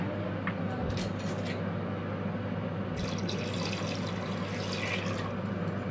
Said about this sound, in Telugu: దీనికి తగినంత వాటర్ వేసుకోవాలి.